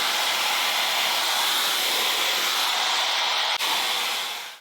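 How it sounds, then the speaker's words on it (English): Hair dryer blowing on curly hair, a steady loud airy whoosh with a constant hum, held without change for several seconds, a brief dropout near the end before it fades slightly. "Just very patiently drying my hair without touching it"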